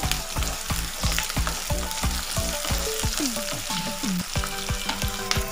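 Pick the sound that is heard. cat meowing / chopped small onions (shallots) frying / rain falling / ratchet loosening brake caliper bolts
chopped small onions (shallots) frying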